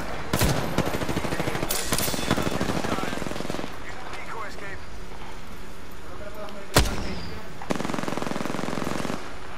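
Rapid automatic gunfire in the battle royale video game Apex Legends, loud bursts and sustained fusillades with sharp single cracks, filling the whole stretch with dense, close shooting.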